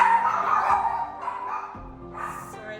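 Dogs whining and yipping indoors in a home kitchen, a continuous high whimpering with a few short yelps, fairly close and loud.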